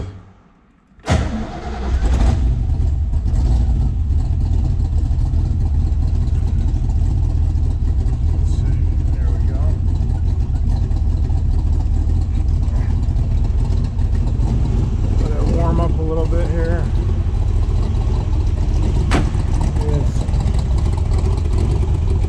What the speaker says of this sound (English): Side pipes sound nice.